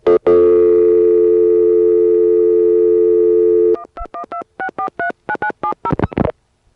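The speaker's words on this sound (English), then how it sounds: "I'm going to flash and dial" On a 1983 1A ESS Centrex telephone line, a steady dial tone sounds, is cut off by a switchhook flash, and is followed by a quick, loud series of DTMF touch-tone digits dialed in even, rapid bursts.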